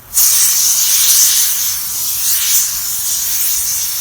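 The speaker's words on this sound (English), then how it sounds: "See, now all the steam is coming off." Steam hisses steadily from the pressure-release valve of a pressure cooker sitting on a campfire, a loud, continuous broadband rush that starts abruptly and holds without a break, with no talking over it.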